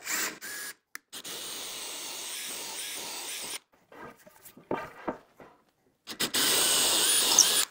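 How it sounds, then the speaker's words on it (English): A power drill whirs in several bursts into a wooden handrail, starting and stopping, with quieter scraping and handling sounds between runs. "I'm going to make sure to try and drill this as straight and square as possible"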